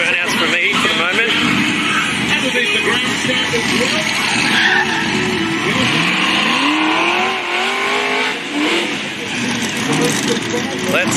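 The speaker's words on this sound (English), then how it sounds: "Right, burnouts." Cars doing burnouts at Powercruise Sydney roar with revving engines and long screeching tire squeals, loud and continuous, while a voice talks over the din.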